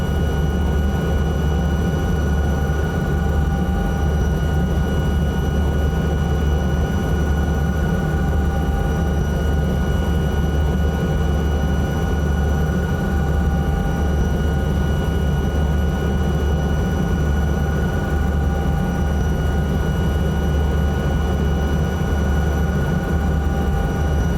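An aircraft engine in Microsoft Flight Simulator 2024 drones as a steady, even cockpit hum with a constant tonal whine, unchanging for over twenty seconds and heard alone.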